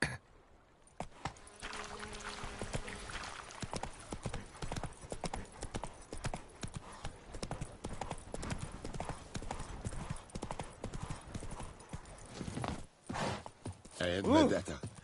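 Roach, Geralt's horse in The Witcher 3: Wild Hunt on PS5, gallops with steady rapid hoof clip-clops over ambient game sound, ending in a brief louder burst.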